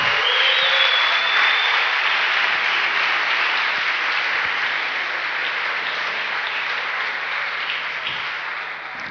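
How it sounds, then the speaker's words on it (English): Steady, dense applause fills a hall at the official closing ceremony of an engineering competition final in Brno as representatives take the stage. The clapping is loud at first and slowly fades toward the end. "Big applause."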